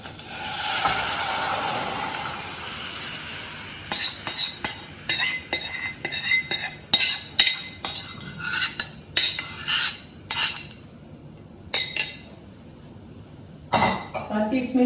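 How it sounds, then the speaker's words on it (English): A metal spoon stirs raw mango kadhi mixture in a pot, a run of quick clinking scrapes against the pot's sides in bursts, fairly close and clear, with brief pauses and a voice talking near the start. "Stir."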